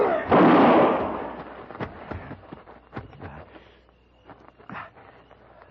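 A rifle goes off in an old-time radio western drama: one loud, close crack with a rolling echo, then scattered smaller knocks and clatter as the scene goes on.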